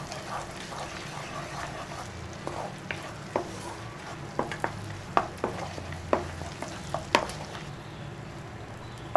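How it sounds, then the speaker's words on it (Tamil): Cinnamon, cardamom and cloves frying in butter for paneer butter masala, giving a low, steady sizzle with scattered light pops and occasional faint ladle clicks. "பட்டர் போட்டாச்சு. கூட ஒரு சின்னதாக 2 பட்டை, ஒரு ஏலக்காய், 2 லவங்கம் போடுங்க."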